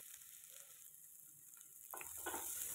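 Onions fry in a pan with cashews for paneer butter masala, a soft steady sizzle that swells louder and brighter partway through as they are stirred, with no talk.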